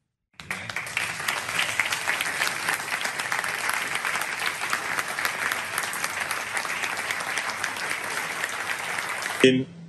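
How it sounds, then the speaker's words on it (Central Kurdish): An audience rises and applauds at an official event on Nashville–Erbil relations, a dense, sustained wash of clapping from many hands that runs steadily for several seconds before cutting off abruptly. "ئامادەبووان هەڵدەستانە سەر پێ و بە چەپڵە ڕێزان پێشوازیان لە قسەکانی دەکرد"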